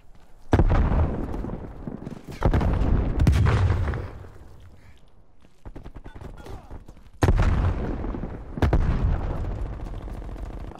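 Grenade blasts and gunfire boom through a desert dune map in Call of Duty Black Ops Cold War, several heavy close explosions with rumbling tails, separated by quieter stretches of distant rattling shots.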